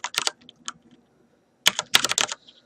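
Fingers type on a computer keyboard, entering a file path in a Python editor. Two close bursts of quick clicking keystrokes are separated by about a second of near silence.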